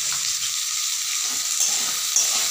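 Potatoes with chopped onion and garlic fry in a pan, giving a steady, bright sizzle and crackle up close. A few scraping stirs come through near the end.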